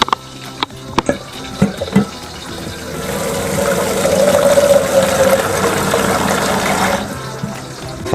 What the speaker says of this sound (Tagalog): Tapos lalagyan nyo lang ng tubig.